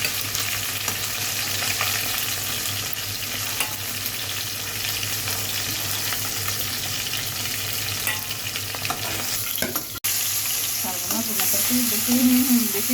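Fish frying in a pan, a loud, constant crackling sizzle with stirring underneath, briefly cut near the end before the spitting hiss resumes.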